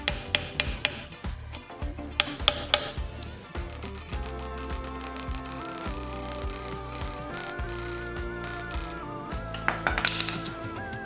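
Hammer tapping a part into a Toyota Tacoma front differential during a gear swap, a few sharp taps at the start, then busy mixed clicks and workshop noise.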